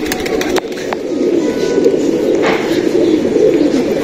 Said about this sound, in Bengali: এটা টিক্কি পায়রা, এটা একদম অরিজিনাল জেনারেশনের টিক্কি।